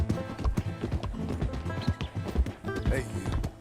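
A horse's hooves clip-clop continuously in Red Dead Redemption 2, a steady, close, walking rhythm with faint ambient background noise.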